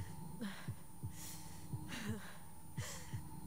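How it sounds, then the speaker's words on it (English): A slowing heartbeat from the video game Tell Me Why pulses as soft, low double thumps at an unhurried pace, repeating steadily under a faint ambient drone with occasional breathy gasps. "My heartbeat's slowing down."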